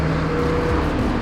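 An Audi R8 race car at the Nürburgring 24 Hours, its engine a loud steady whine heard from on board, the pitch sliding down briefly as revs drop.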